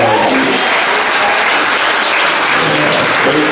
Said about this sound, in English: this great choir you all got here, y'all give yourselves a big round of applause